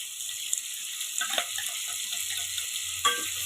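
A ground paste of green chilies, cumin, garlic, coriander and salt fries in a pan, giving a soft continuous sizzle with two sharper bursts as it is stirred, and no talking.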